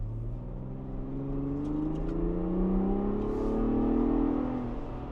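A 2024 Ford Bronco Raptor engine revs and pulls hard, its pitch climbing steadily in a loud, close, sustained rumble with rising harmonic tones and no talking.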